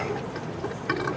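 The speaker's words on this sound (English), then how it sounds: "Water pump's pushing the water out. It's pushing the water out in the low point drain valve" An RV water pump pushes water out through the low point drain valve, giving a steady, hissing splash of draining water. It runs continuously at moderate loudness, with a few brighter splashes near the end.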